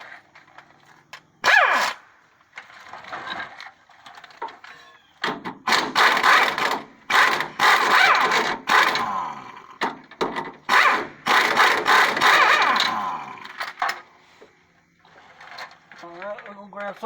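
An 18 mm wrench works loose the bottom nut of a sway bar end link on a Ford F150, giving bursts of ratcheting, scraping metal clicks in uneven clusters, close by, with short pauses between efforts.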